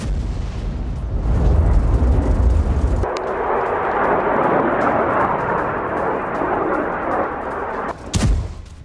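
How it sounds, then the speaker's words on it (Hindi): Iranian ballistic missiles strike and explode over Tel Aviv, heard as a sustained, heavy roaring rumble that shifts to a harsher wash midway, then ends with one sharp blast near the end. No voices. "किस तरह से बैलिस्टिक मिसाइलों से इजराइल के तेल अवीव को फिर बनाया गया है निशाना"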